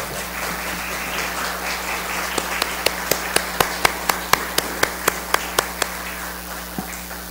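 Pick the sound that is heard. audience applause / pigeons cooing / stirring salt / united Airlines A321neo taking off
audience applause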